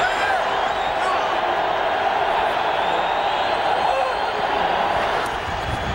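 A loud, sustained roar from a home crowd at a 1994 Seattle Seahawks football game against the Raiders, a dense, even wash of many voices that barely changes, sounding broadcast-like and distant.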